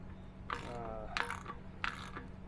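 Tightening down a well cap during a submersible pump installation, three short bursts of ratcheting clicks, close and quiet.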